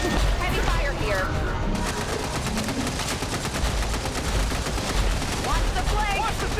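Heavy battle gunfire in XCOM 2, dense overlapping automatic bursts and shots crackling loudly throughout, with game voices speaking over the din.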